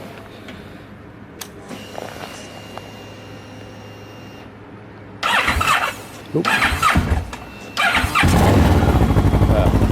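A 2009 Kawasaki Ninja 650R fitted with a Yoshimura TRC exhaust cranks in a few short bursts. It then fires up into a loud, close, steady idle, with a brief exclamation from a person early on.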